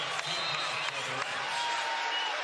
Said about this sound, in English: Gabe Madsen gets the Huntsman Center crowd going